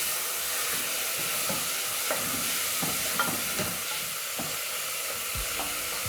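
Tomatoes frying in a pan for Kenyan githeri, stirred with a utensil: a steady close sizzle runs throughout, broken by a series of soft scraping stir strokes at irregular intervals.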